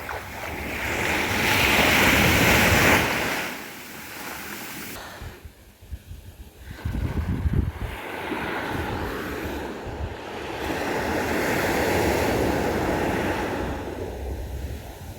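Waves roll onto Sur Beach in Oman, loud surging surf that rises and falls in long washes, with strong wind buffeting the microphone throughout and no one speaking.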